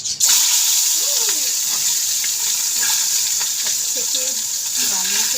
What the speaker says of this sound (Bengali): তেলে দেওয়া